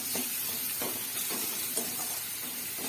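Spices, including salt, asafoetida, turmeric and goda masala, sizzle steadily in hot oil in a pan for a Maharashtrian okra and amaranth vegetable dish, with a continuous close hiss and soft periodic stirring scrapes.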